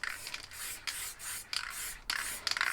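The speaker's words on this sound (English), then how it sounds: "just going to spray this real lightly, just the corners and across the bottom, real lightly." A spray paint can hisses lightly in several short bursts, blackening the corners and bottom edge of a painting, close up and steady.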